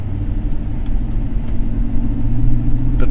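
A 2008 GMC Yukon XL 2500 engine idles close by, a steady loud low rumble with a slight rise in intensity toward the end.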